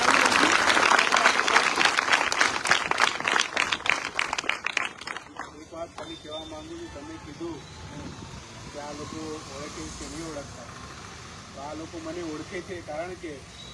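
An audience at a free notebook distribution for about 200 students at a hostel in Sejakuva village, Padra, claps for a guest. The dense applause fades after about five seconds, and speech follows over low room noise.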